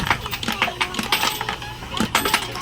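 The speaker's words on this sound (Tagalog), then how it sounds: "So sa paghuhulog ng barya" Several coins clink and drop one after another into the slot of a PisoWifi vending machine, a quick irregular run of sharp metallic chinks close by.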